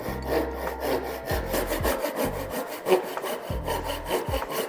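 A cheap hand saw cutting wood with steady, rhythmic rasping strokes, the cut biting on the pull, close and loud with no talking.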